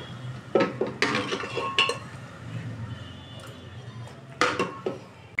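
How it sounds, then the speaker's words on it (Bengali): A ladle stirs mixed dal in a metal pot, making a few sharp clinks and knocks against the rim spaced over a soft background, with quieter scraping between them. "তার আগে আমি এই ডালটাকে একটু হাতা দিয়ে ঘেটে ঘেটে দেব।"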